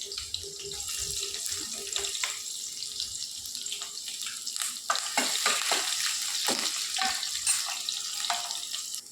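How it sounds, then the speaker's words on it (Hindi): Onions frying in oil in a pan for a dhaba-style egg gravy, a steady close sizzle with crackles and hissing bursts running throughout, no voices. "प्याज हमारा फ्राई हो रहा है"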